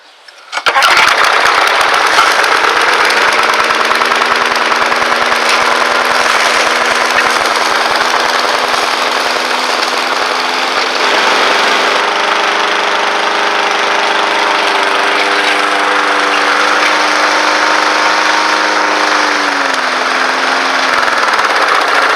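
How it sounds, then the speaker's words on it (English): A lawn mower engine running on gasoline treated with Seafoam starts up and runs steadily at a loud, close, even drone for over twenty seconds, with a slight shift in pitch near the end. "we'll crank her up, and I'll go ahead and start mowing"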